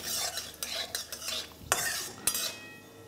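Dried red chillies and whole cumin seeds are stirred in hot oil in a pan, a soft sizzle under repeated scraping and clinking of a metal spoon, with two sharper scrapes near the end.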